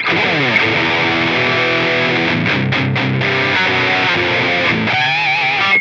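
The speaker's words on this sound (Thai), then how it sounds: "ดิสโทชันเสียงแตกกันบ้าง" A heavily distorted Schecter C-6 Plus electric guitar plays sustained, gritty chords with a brief choppy break partway through, loud and alone.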